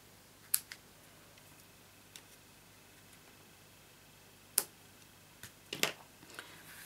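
Scissors snip through paper for a handmade Stampin' Up! card, a few sharp isolated cuts spaced out over a quiet room, close and fairly faint with short pauses between snips.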